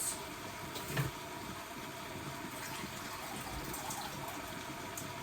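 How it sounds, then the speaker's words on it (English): Water runs steadily into an emptied chopped-tomato can as it is rinsed out, a continuous soft rush with a brief louder splash near the start and no voices. "I'm also going to rinse that out."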